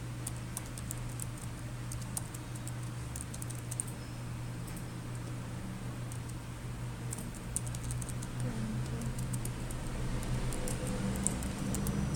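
Light, steady typing on a computer keyboard as a group name is entered, quick soft key clicks over a low background hum with no voices.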